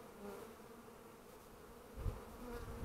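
Honeybees hum in a continuous, low drone around a Warré hive being supered outdoors, steady and close, with a brief louder bump near the end and no talking.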